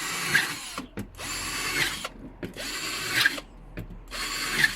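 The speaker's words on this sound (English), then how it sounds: "going to be drilling holes at the bottom here" A power drill whirs in four short bursts, drilling holes in the bottom of a plastic bucket, spinning up and stopping with brief pauses between, close by and fairly loud.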